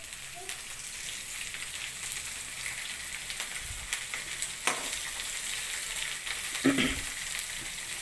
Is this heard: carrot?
yes